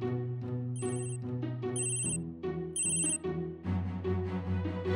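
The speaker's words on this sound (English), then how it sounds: "you can also activate a Tile to ring so you can find it by sound." A Tile Bluetooth tracker rings to reveal a lost item, playing a bright, melodic electronic chime tune that repeats in short bursts at moderate volume, with no talk over it.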